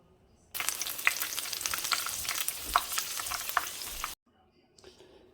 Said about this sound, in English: I got some more to fry